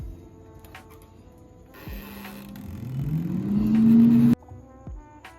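An air fryer is switched on with a click and its fan motor spins up, a rising whirring hum that grows louder and steadier before cutting off, followed by a couple of soft clicks; no talking.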